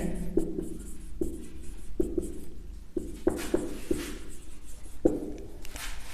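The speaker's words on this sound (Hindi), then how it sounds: "तो चलिए न्यूटन ने फर्स्ट लॉ में क्या बताया, इसकी स्टेटमेंट में लिखता हूं।" Chalk or marker strokes scratch across a board while the statement of Newton's first law is written, producing close, repeated short scraping taps and strokes over a continuous low background rumble.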